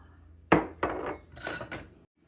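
Frybread dough made with buttermilk is mixed in a bowl, with several sharp, close clunks and scraping strokes of a utensil against the bowl in an uneven rhythm, then a pause.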